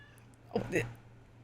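A pet cat gives a short meow of about half a second, fairly close, over a steady low hum, with some vocal overlap that may be a person speaking.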